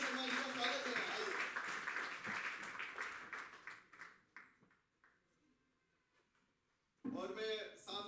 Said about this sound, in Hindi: एक बार तालियां बजाइए और वीरेंद्र शर्मा जी का स्वागत करें।